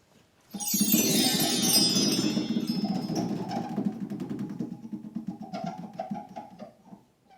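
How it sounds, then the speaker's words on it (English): A prize wheel spun at a school game show whirs with a bright ringing start, then rapid ticking clicks that gradually slow down over several seconds before stopping. "Go ahead and spin the wheel."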